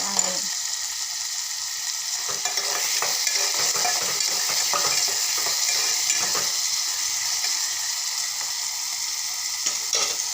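Finely chopped tomato cooks in a pan for a tomato chutney, giving a steady close sizzle and frying hiss with light stirring scrapes throughout, no voices.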